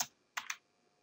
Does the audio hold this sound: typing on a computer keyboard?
yes